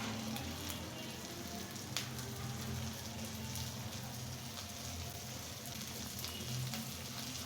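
Shrimp frying in a pan for a mashed shrimp dish, giving a steady, faint sizzle with light crackles throughout.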